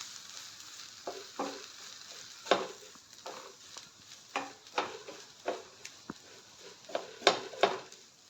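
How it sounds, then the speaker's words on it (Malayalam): Ivy gourd leaf thoran stirred in a pan, with a steady row of spoon scrapes and clacks against the metal over a soft sizzle, close and clear with no talking. "ഇനി നമുക്കിത് തുറന്നു കൊടുത്തിട്ട് ഇതിനെല്ലാം കൂടി മിക്സ് ചെയ്യാം. നല്ലപോലെ മിക്സ് ചെയ്തെടുക്കാം."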